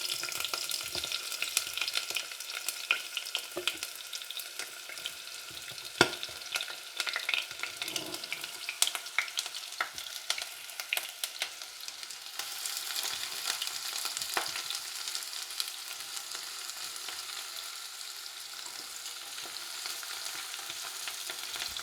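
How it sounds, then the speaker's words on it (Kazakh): Onions and grated carrots fry in hot oil in a cauldron, giving a steady close sizzle and crackle with occasional clatter and scraping of a utensil, with no voices. "Біз келесі қазанды қыздырып, табаны немесе май құямыз. Және оған мұндағы көкөністерімізді кезекпен кезек салып қуырамыз."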